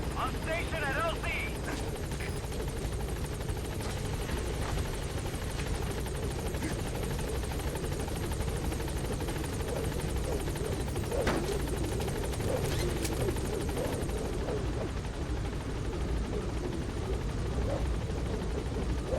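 The Pequod helicopter from Metal Gear Solid V hovers on station at a landing zone, a constant heavy rotor thrum and engine drone filling the scene while voices talk over it.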